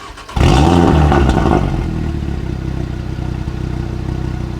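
Rebuilt Audi A3 engine tuned to sound like an RS3, giving a loud rev burst with clattery mechanical texture that peaks for about a second, then settles into a steady throaty idle rumble, close up with no talking.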